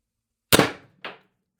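A Pistelle X-68 airsoft pistol running on 1000 psi HPA with a short ASA fires a single shot, a sharp snappy crack from near range, followed by a second smaller crack that could be the BB bouncing back, then a faint tick.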